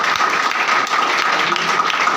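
An audience at a network-marketing motivational event gives loud, dense, sustained applause that fills the space evenly, with no voices standing out.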